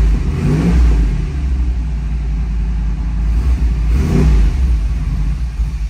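A 1991 GMC K1500 Sierra pickup with fuel injection running after a cold start, a loud, close, deep engine rumble with two brief revs swelling and falling back to idle.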